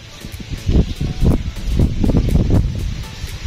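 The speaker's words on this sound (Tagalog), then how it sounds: "Paikot-ikot ang hangin mga idolo" Wind gusting across an open kite-flying field in San Juan, Batangas, rumbling and buffeting close to the microphone in uneven surges with no voices.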